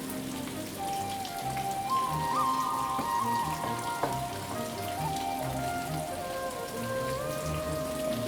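Steady rain patters across surfaces throughout on a farm during the monsoon, a continuous close hiss with a faint tonal whistle-like sound drifting over it.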